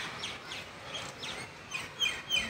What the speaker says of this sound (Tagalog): May mga ibon naman, oh. Ang sasaya din ng mga ibon.